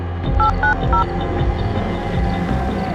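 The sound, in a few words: telephone number being dialed, keypad tones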